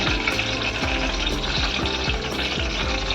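Onion is dropped with curry leaves into hot oil for tempering a matki and potato usal, giving a steady, close sizzle that runs throughout, with tuneful music playing in the background.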